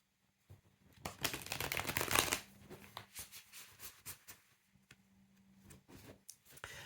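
Tarot cards from the Rosewood Tarot Day and Night deck are handled and drawn close by, with quiet papery rustling that swells briefly, then a scattered run of soft clicks and flicks.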